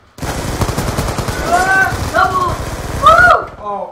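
Gunfire in a Call of Duty-style Hardpoint match on the Yemen map, rapid close automatic shots rattling continuously, with game tones and voices mixed over the firing.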